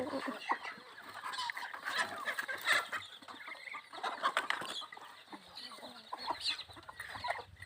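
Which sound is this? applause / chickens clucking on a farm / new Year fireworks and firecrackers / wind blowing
chickens clucking on a farm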